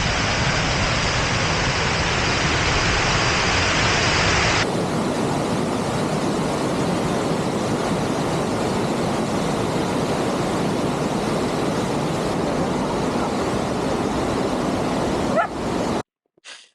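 Steady broadband roar of rushing water at a waterfall, loud and continuous with no talk, shifting in tone partway through before cutting off near the end.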